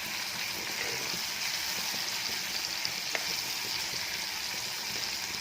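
Food fries in a pan with a steady, dense sizzle that holds evenly throughout, close and continuous, with occasional faint pops.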